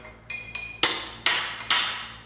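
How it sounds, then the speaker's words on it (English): A small hammer tapping metal welding fixture parts on a fusion welding table: five sharp, close, ringing metallic taps at uneven intervals, each decaying briefly before the next, with no talking. "at this point, I might come in with a little hammer"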